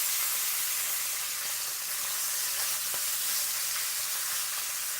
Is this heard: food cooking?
yes